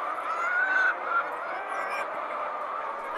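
Laying hens on a poultry farm housing about 5,800 birds make a steady, dense chorus of overlapping clucks and calls, continuous and fairly loud throughout with no voices.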